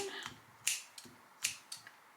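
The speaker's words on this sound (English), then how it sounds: "Of course, I use my dull scissors." Several crisp snips of dull scissors trimming a bow, spaced irregularly, close by and fairly quiet, with faint room noise between them.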